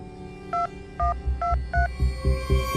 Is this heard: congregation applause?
no